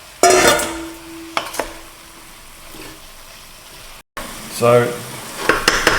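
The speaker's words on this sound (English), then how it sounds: "adding the beef in. And all those juices." Beef hits a hot stir-fry pan with its juices and bursts into a loud, close sizzle that fades to a steady hiss, followed by scraping stirs; a voice speaks briefly.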